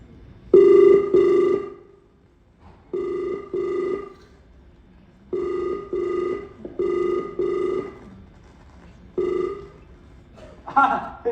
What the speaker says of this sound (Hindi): चलो यार, करता हूँ उसको फोन।